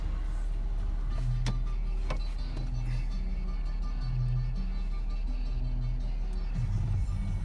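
The power windows on a 2005 Ford Escape whir through several short motor runs, close and moderately loud, separated by brief pauses over a steady low hum inside the car.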